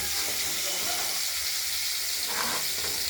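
Pieces of rohu fish frying in oil, a steady dense hiss and sizzle throughout with faint crackles.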